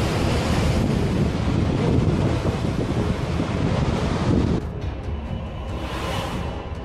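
Heavy storm waves on the Cantabrian coast roar and crash continuously, with strong wind buffeting the microphone; the roar drops a little partway through.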